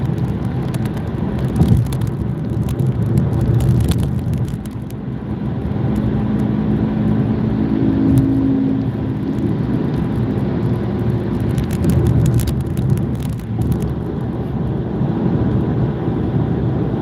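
Steady low road rumble and wind noise from inside a moving car on a drive, continuous and fairly loud throughout with no one speaking.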